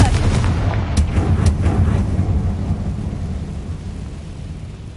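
A Confringo blasting spell in a Ravenclaw witch video game sends out a deep rumbling explosion with a few sharp cracks early on, then a long booming roll that slowly fades, with no one talking.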